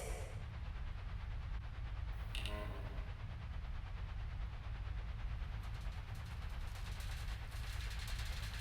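A train pulls out of a Moscow station in the adventure game Secret Files: Tunguska, a steady heavy rumble of rolling cars with a brief hiss and clanks partway through, no one speaking.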